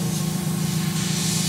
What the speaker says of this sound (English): I'm going to take and spray that cleaner out